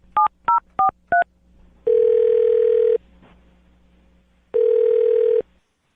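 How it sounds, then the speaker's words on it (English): Four quick touch-tone telephone beeps dial a number, followed by two long, loud ringback tones separated by a pause, all clean and close. "I'll dial the phone number right now"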